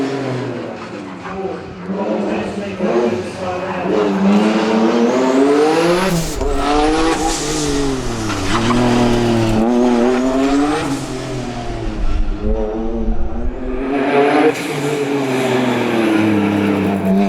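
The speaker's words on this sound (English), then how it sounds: "The top 10 cars head out for the final run of the weekend." Race cars, including a Nissan 370Z, lap a motorsport festival circuit during a street-car top ten shootout, engines screaming and rising through gears up close, with pitch sweeps as they pass and downshift, a commentator talking over them.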